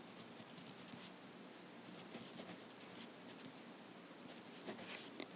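Marker or chalk writing on a board during a geometry lesson: faint, soft scratchy strokes in short bursts against quiet room noise.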